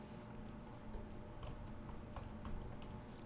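Rapid typing on a computer keyboard, with dense, irregular clicks and taps that run steadily and close up throughout, over a low room hum with no voices.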